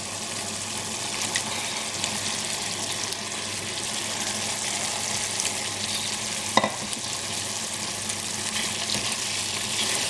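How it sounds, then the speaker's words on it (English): King prawns sizzle and fry steadily in a thick curry with potatoes while being stirred, a continuous broadband hiss with a brief scrape of the utensil against the pan. "So we're just going to add the prawns."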